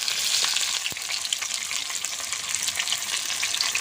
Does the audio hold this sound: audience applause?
no